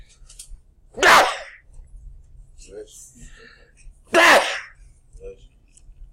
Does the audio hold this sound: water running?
no